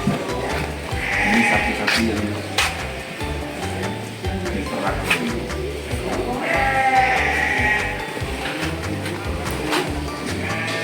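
Sheep bleat repeatedly in a noisy pen on a livestock farm, several overlapping calls near and farther off, with a steady background clatter and faint voices.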